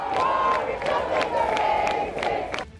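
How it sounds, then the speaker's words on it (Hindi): Protesters gathered outside the Prime Minister's house raise a loud, continuous crowd roar of chanted slogans and shouts in rhythmic bursts that swell and dip for nearly three seconds. "प्रधानमंत्री के घर के बाहर इकट्ठा लोगों ने नारेबाजी शुरू कर दी।"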